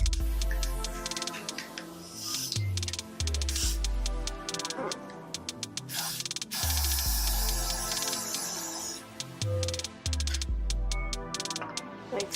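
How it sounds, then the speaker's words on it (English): Got2b hair spray is sprayed onto the front of a head, hissing faintly in quick short puffs mixed with clicks and handling noises, close but quiet. "I'm just going to take some Got2b, and this is the spray, and I'm just going to spray it on the front of my head"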